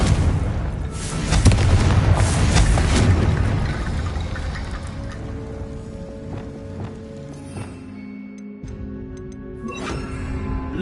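A fiery Confringo spell blast in Hogwarts Legacy, a loud rumbling explosion that swells early then fades into lingering crackle and debris, with softer thuds and tones trailing afterward.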